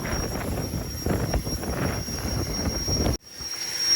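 Broadband engine roar from an airliner waiting on the apron at an airport, a steady loud rumble that drops away abruptly near the end.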